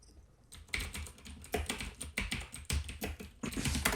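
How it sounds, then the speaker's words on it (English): Fast, uneven clacking of keys on a loud mechanical keyboard, close and crisp, with dense bursts of keystrokes and short pauses between them and no talking. "That is a loud ass keyboard."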